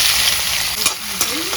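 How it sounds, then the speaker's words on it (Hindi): Chopped onions deep frying in hot oil make a steady broadband sizzle, with a few sharp utensil clinks and scrapes against the pan close by. "अभी फ्राइंग का काम शुरू करते हैं।"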